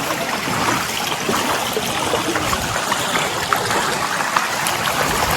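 Floodwater rushes through a drain in Gariyadhar after heavy cyclone rain, a loud, continuous close-up roar of turbulent flowing water with small splashes throughout.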